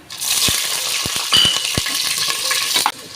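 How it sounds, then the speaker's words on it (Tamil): Cinnamon, cloves, cardamom and green chillies dropped into hot oil for mutton biryani, a bright continuous sizzle punctuated by several sharp taps and knocks of whole spices hitting the pan. "இப்போ வந்து பட்டை லவங்கம், ஏலக்காய் போட்டுக்கலாம். பச்சை மிளகாய் போட்டுக்கலாம்"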